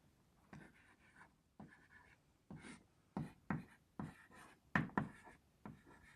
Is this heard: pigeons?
no